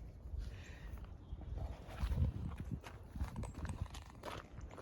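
Miniature donkeys, a mother and her foal, walk on a farm, their hooves giving soft irregular clip-clop steps, close and moderately loud, with no talking.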